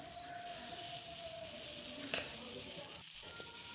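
Boiled potatoes fry in a pan and are stirred, giving a steady, close sizzle with faint scraping under it and no voices.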